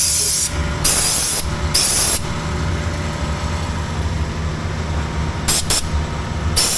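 An undercoating spray gun hisses WoolWax onto a Ford F-150 in bursts, two strong sprays near the start and a couple of short quick taps near the end, over a steady low mechanical rumble.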